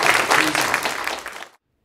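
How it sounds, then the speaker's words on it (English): A church congregation claps together in a short, dense burst of applause lasting about a second and a half, then stops abruptly into silence. "Let's give the Lord a clap."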